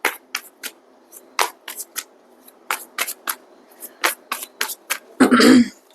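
Repeated crisp riffling bursts of tarot cards being shuffled, a quick irregular series of short rustles ending in a louder, fuller flurry.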